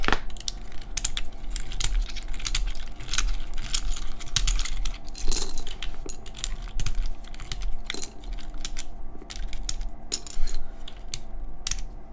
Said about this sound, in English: you'll see me take off keycaps like a savage